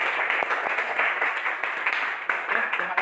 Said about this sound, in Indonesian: Oke, aplaus buat Mbak Fadila